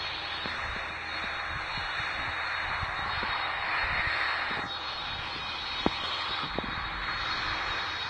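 A Boeing 757 cargo jet taxis after touchdown, its engines a steady loud roar with a high whine, joined by occasional bumps and clunks from the taxiway, continuous throughout.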